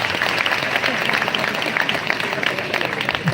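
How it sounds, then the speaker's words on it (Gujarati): Audience at a school principals' convention applauding steadily, a dense wash of many hands clapping continuously at close range. "તાળીઓના ગડગડાટ થઈને વધાવી દઈએ"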